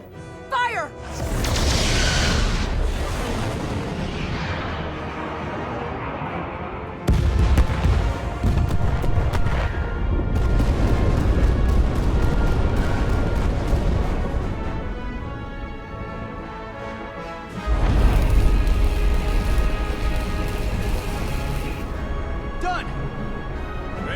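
Weapon fire and explosions in the Star Trek Resurgence game, with heavy booming blasts and broadband bursts that come and go over a long stretch, mixed with people talking.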